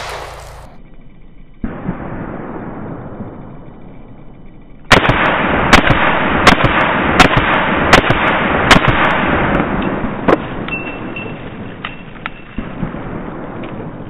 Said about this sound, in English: I'm gonna shoot fast, six shots, right? Six shots, top.